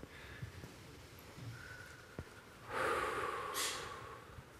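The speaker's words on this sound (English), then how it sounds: "Take a deep breath." A single deep breath drawn in and let out during a guided mindfulness moment, a fairly loud breathy rush that swells and fades against a quiet room.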